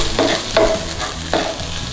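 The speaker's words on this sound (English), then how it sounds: "we're just going to cook it in here until it's all amalgamated together as if we were making a fried rice" Rice and shrimp paste being stir-fried in a pan over a medium flame, with a soft continuous sizzle and several distinct scraping stirs of a utensil against the pan.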